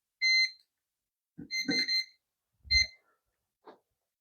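Voltage tester beeping during replacement of a triple rocker switch: a few short high electronic beeps in separate bursts, with handling clicks and thumps between them, close and clear.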